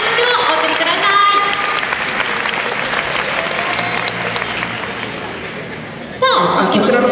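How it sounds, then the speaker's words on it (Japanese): Loud, sustained audience applause with some crowd cheering at a Japanese sports team's fan appreciation day T-shirt fashion show, continuous clapping close by with a voice cutting in near the end. "今一度大きな拍手をお送りください。"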